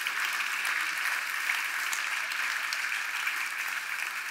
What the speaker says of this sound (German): das ist dein Applaus nochmal